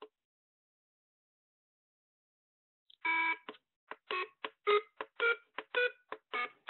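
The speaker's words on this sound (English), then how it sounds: "I got a long beep at the beginning that told me to go in" Silence, then a quick series of short electronic beeps from a Pet Tutor device in an uneven rhythm, clear and close.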